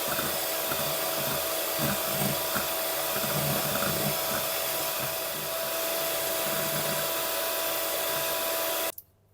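An electric mixer beats eggs into a honey and butter caramel mixture for a honey sponge cake batter, running as a steady, loud whir that holds nearly unchanged before cutting off abruptly at the end.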